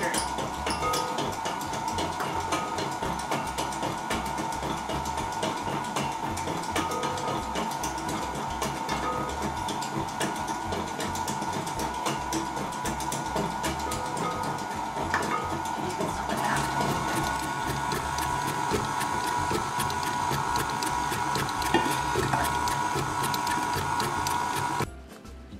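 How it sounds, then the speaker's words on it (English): Stand mixer running steadily on low speed while mixing royal icing for sugar cookies, a continuous whirring mechanical hum with a faint rhythmic clatter, loud and unbroken, stopping abruptly at the very end. "And start the mixer on low."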